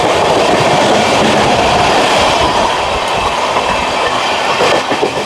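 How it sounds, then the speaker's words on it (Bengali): The 13125 Sairang Express passenger train runs through Kalinarayanpur junction, heard from on board as a loud, continuous rumble with rhythmic clickety-clack of wheels over rail joints. "আমাদের ট্রেন এই মুহূর্তে পার করছে কালীনারায়ণপুর জংশন"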